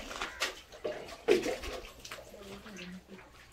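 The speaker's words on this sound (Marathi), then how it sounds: "एक काका पाणी काढताय." Water being drawn by hand from a freshwater seaside well at Malvan, with irregular splashes and pouring sloshes, close by and moderately loud, tapering to a faint trickle.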